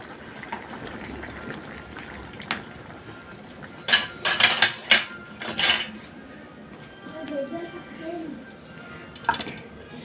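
Courgette and chicken go into a tagine dish for a zucchini-and-chicken bake, giving a burst of clattering, scraping kitchen knocks in the middle, with softer dish sounds before and after and a voice talking in the background.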